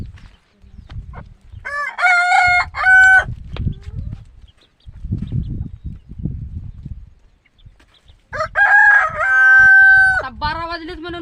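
A rooster crows loudly twice, well apart, on a poultry farm, with quieter clucking and rustling from chickens in between.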